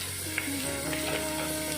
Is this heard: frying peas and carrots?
yes